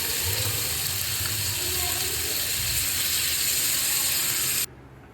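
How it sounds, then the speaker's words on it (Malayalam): A prawn curry boils in a pot while fish fries beside it, giving a dense, steady hiss and bubbling roar that continues evenly before cutting off abruptly near the end. "അപ്പോൾ ഇവിടെ കറി നന്നായിട്ട് തിളച്ച് വന്നിട്ടുണ്ട് കേട്ടോ."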